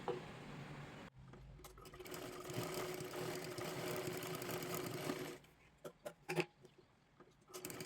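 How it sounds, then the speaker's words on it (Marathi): A sewing machine runs a double line of stitching along a blouse neckline edge for a Kathpadar saree, whirring steadily for several seconds and then stopping, followed by a few soft handling clicks. "आता इथे सुद्धा कडेला एक डबल शिलाई मारून घ्यायची आहे"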